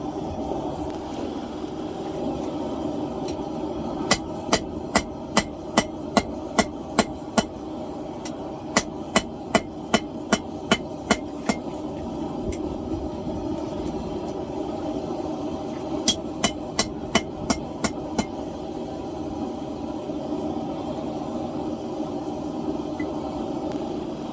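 A blacksmith forges hot steel into pickup tongs, sharp hammer blows ringing in three quick runs of about eight to ten strikes each, steady and close over a constant low hum from the forge.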